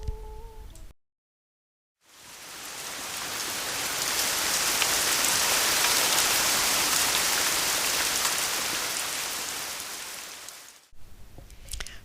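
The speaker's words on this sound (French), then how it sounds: "il pleut toujours" Steady, heavy rain pours down for about nine seconds, a dense hiss that swells in after a short silence and cuts off abruptly.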